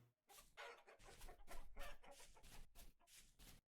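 Chickens cluck in a survival building game, a close run of soft, choppy clucks and short squawks in quick succession with no talking.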